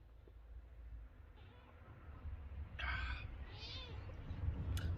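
A cat meows a few times, faint and at a short distance, brief rising calls over a low room hum, with no talk.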